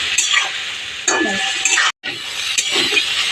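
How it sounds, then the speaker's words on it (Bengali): Potato and soybean pieces are sautéed with cumin powder and a splash of water in a pan, giving soft stirring scrapes and light clinks in short bursts, with a brief gap, close and moderately loud. "জিরার গুঁড়ো, অল্প জল দিয়ে এটাকে কষিয়ে নেব"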